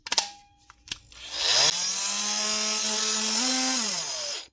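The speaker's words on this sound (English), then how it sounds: "That is a TM30 Makita multi-tool up and running again." A Makita TM30 12-volt cordless multi-tool, just fitted with a new switch, clicks a few times, then spins up and runs at a steady, loud buzzing whine for about three seconds before winding down.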